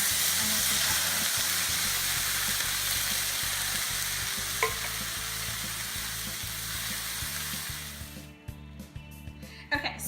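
Crushed tomatoes from a 28-ounce can sautéing with onions and peppers, a continuous loud sizzle and bubbling with stirring, fading and breaking into scattered clinks near the end.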